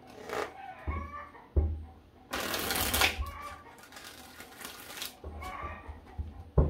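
Tarot cards are shuffled by hand in several quick riffling bursts, with short pauses between each, close and fairly soft.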